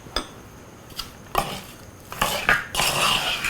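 A spoon knocks and scrapes inside a pot while oil-free Sri Lankan chicken curry is mixed with salt: a few separate clinks, then steadier scraping and stirring, fairly quiet and close, with no voices.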